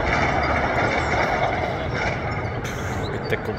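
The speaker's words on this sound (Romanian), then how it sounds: "Uite cum trec trenurile, bă." Trains pass by in Buzău, Romania, near roadworks, a loud, continuous broadband rumble and rushing roar with a brief brighter, hissing lift toward the end.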